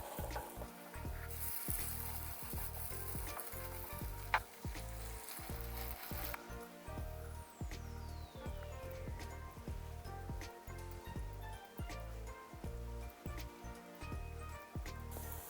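Perilla potato pancakes sizzle and crackle in oil in a pan, a soft, steady frying hiss with faint scraping from shaping the batter, heard fairly quietly with no talking.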